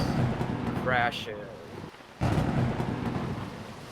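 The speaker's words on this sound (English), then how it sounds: "And again, the thunder, it crashes" A thunder sound effect during a Call of Cthulhu tabletop role-playing session rumbles and crashes loudly amid wind and rain, with a brief lull before another heavy roll of thunder bursts in.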